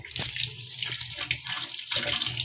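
Medicinal flower buds being rinsed in water, with a steady close splashing and trickling like a filling tub or tap that runs the whole time, plus a few sharper sloshes.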